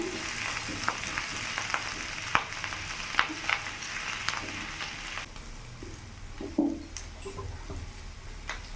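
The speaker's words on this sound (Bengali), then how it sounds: "ভালো করে একটু ভাজা ভাজা করে নেব, যাতে কাঁচা ভাবটা চলে যায়।" Cauliflower sizzles and crackles steadily in a hot pan, with occasional scrapes and taps of a spoon stirring; no one speaks.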